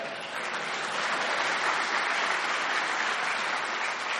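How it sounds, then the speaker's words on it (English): A crowd claps steadily and densely for about four seconds, loud and continuous with no voices over it. "Can't record with clapping."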